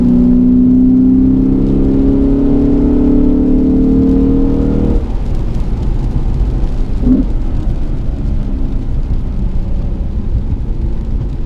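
A Lexus RC F engine drones loudly and steadily under load in wet conditions, then eases off with a short throttle blip partway through, followed by a lower rumble and road noise close up.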